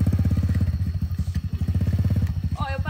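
A small mini motorcycle engine chugs close by in a fast, steady putter, rising slightly toward the end, with a voice briefly heard over it.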